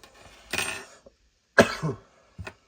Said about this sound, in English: bloody cough, that's getting on my nerves